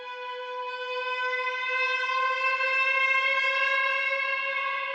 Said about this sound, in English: I used a sample of a violin harmonic, which sounds sort of screechy and weird